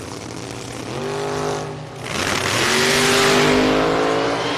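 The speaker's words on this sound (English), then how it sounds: "Doug Faris is back on the noisy Corvette." A noisy Corvette drag car at the strip idles with a throaty rumble, dips briefly, then launches and roars hard as the engine climbs through the revs, loud and sustained.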